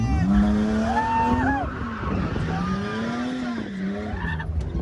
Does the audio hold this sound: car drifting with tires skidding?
yes